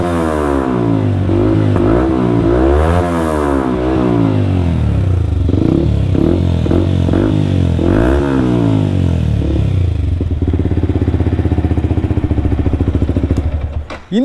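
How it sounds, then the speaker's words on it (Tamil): A Yamaha R15 V3 motorcycle fitted with an Akrapovic-style exhaust revs loudly up close, with sharp rising and falling throttle blips and crackles, then settles into a rough idle. "எனக்கு இந்த அக்ரோபோவிக் இந்த ஸ்டைலில் இருக்க எக்ஸாஸ்ட் வந்து ரொம்பவே பிடிக்கும்"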